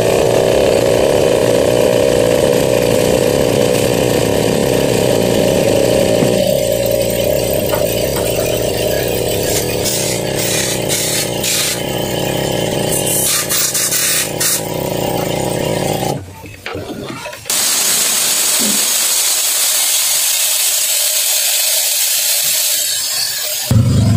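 An air compressor inflating a motorcycle tire in a repair shop, loud continuous motor drone that shifts into a rushing hiss near the end.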